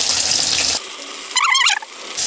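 Pieces of rohu fish fry in hot oil with a bright, hissing sizzle that cuts off abruptly, then returns in short bursts, close and fairly loud.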